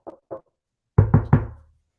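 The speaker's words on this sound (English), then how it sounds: "Knock on wood." Knuckles rap on wood in two light, separate taps, then three firm, close knocks in quick succession, with no talking.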